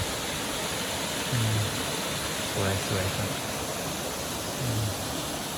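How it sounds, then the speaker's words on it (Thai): An artificial waterfall at Wat Tham Pha Daen temple in Sakon Nakhon gives a steady, loud rush of falling water throughout, with a voice speaking briefly over it. "อันนี้น้ำตกนะครับน้ำตกจำลองนำน้ำตกจำลอง"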